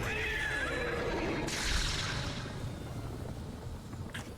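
A horse neighs in a video game, a loud whinny that bursts in partway through over a steady background bed, then trails off with a brief faint noise near the end.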